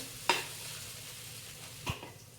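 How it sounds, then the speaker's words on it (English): A moong dal kachori mixture fries in a pan, sizzling softly while a spoon scrapes and clinks against the metal twice, quiet and close, with no voices. "You should fry this mixture until this mixture turns slight yellow, golden yellow"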